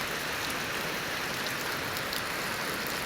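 Steady rain pours down on a rural Thai farm as a storm sets in, a dense continuous hiss of drops hitting surfaces, even and unbroken throughout with no voices.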